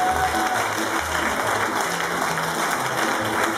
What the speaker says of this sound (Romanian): Încă o dată aplauze, că merită.